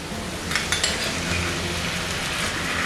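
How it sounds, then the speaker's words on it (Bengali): Two spoonfuls of sour yogurt are stirred into spices frying in a pan for a pointed gourd curry. A steady close sizzle runs throughout, with a few sharp spoon clinks against the pan early on and no talking. "এখন আমি এর মধ্যে দিয়ে দিচ্ছি 2 চামচ টক দই"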